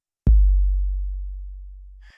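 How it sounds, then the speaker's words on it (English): A single deep, booming Roland TR-808 kick drum thump that decays slowly over about two seconds, alone, ending with a faint click. "a recording of an actual 808 sample from the TR-808 drum machine"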